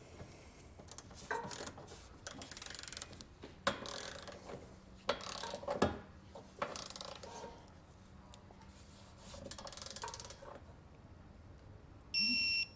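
A torque wrench tightens trailer hitch bolts on a 2019 Ford Edge, giving irregular clicks and mechanical ratcheting with a few sharp clacks and a brief beep at the end.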